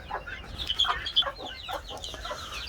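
Buff Cochin bantam chickens cluck and chatter inside a coop, several birds making overlapping short clucks and squawks at close range in a lively, irregular stream.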